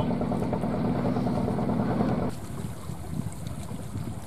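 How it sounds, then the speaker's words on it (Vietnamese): A tugboat towing a barge on the sea chugs with a steady low engine drone amid wind and water noise, the throb fading to a lighter rumble partway through. "Chiếc này là ghe kéo này, ghe kéo xà lan các bạn."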